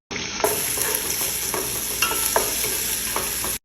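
Ginger and garlic fry in a pan for a mixed stew, a continuous close sizzle punctuated by repeated utensil scrapes and clinks as they are stirred.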